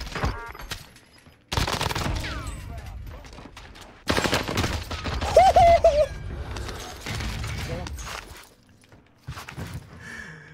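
Rapid bursts of DMR rifle fire in the Call of Duty Warzone game come in loud clusters separated by brief pauses, with mechanical clicks and faint in-game sounds between the volleys.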